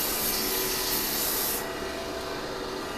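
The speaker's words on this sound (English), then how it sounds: "I don't know how far I'm going to sand this down." Mesquite wood being power-sanded on a lathe, a steady loud broadband hiss of abrasive against the spinning piece that softens and dulls partway through, continuing alone without voices.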